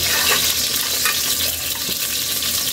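Ginger sizzles in hot oil in a pan, a steady bright crackling hiss with a few soft stirring scrapes, close and continuous with no talking.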